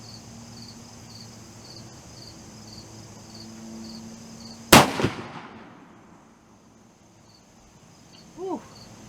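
A single sharp, loud report from a CVA Accura LRX .45 caliber muzzleloader fired outdoors with a 60-grain powder charge, decaying into a rolling echo over steady crickets and insects, followed by a brief faint voice.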